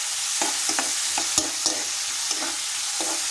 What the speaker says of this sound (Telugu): ఒకసారి మళ్ళీ గరిటెతో తిప్పుకోండి.